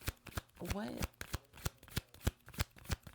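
A deck of tarot cards is shuffled and handled up close, producing a quick series of crisp, sharp card snaps and flutters at a fairly regular rhythm. A voice is briefly heard among them.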